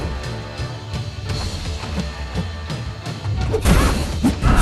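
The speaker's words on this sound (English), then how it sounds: "Big old frickin' fire tornado. And ba-boom." A fire tornado special attack by Human Torch in the mobile fighting game Marvel Contest of Champions, heard as a run of loud impacts and whooshing blasts that swell into a dense, roaring burst near the end.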